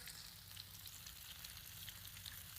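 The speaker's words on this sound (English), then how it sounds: "They fry pretty quick" Steady, soft sizzle of food frying in a hot pan a few pieces at a time, a faint continuous crackle with small pops scattered throughout and no voices.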